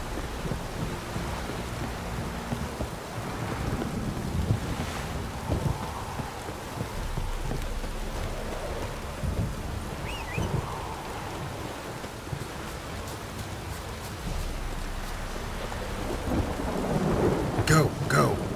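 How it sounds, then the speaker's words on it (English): Heavy rain pours steadily in The Witcher 3 video game, a dense hiss throughout, with low rumbles of thunder rolling in the background and a sharper crack near the end. "This downpour's a bastard,"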